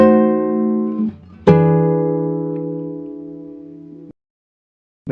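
A nylon-string classical guitar plays the next phrase of a tango, with a couple of softer plucked notes and then a firmly struck chord that sustains and fades for a few seconds, cut off cleanly, with another note starting at the end.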